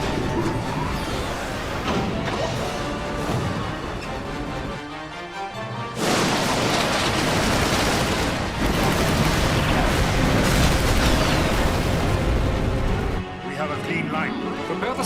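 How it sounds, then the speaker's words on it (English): Cannon volleys fired during a battle in the Final Fantasy XII game: repeated heavy booms and crashing blasts in a dense, loud din of combat noise and music, with voices speaking at times. "Give word to the cannons."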